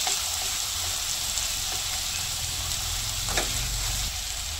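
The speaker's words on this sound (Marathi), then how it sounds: "यामध्ये असा ते पूर्ण मसाला असा घालायचा, तेलामध्ये बराबर जाते." Masala sizzles steadily in hot oil in a pan for karela sabzi, a dense close frying hiss with a few faint stirring clicks and no talking.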